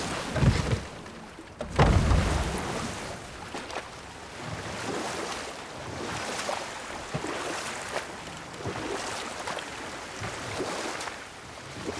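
Rushing waterfall in the God of War game world, a steady broadband roar of falling water with a louder splash-like burst near the start, then continuous even wash to the end, no voices.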